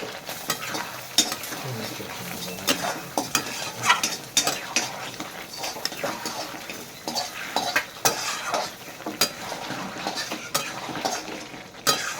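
Goat meat stir-fried with milk in a pan sizzles continuously while a utensil scrapes and clatters against the pan in irregular, close strokes, with no speech.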